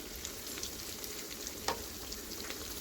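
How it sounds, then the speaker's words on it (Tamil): Onion, ginger, garlic, mint and green chillies sautéing in a pan for mutton biryani, a steady soft sizzle and crackle with one brief sharper pop, fairly quiet and with no talking. "பூண்டு, கொத்தமல்லி, புதினா எல்லாம் நல்லா வதங்கிடுச்சு வெங்காயத்தோடு சேர்ந்து"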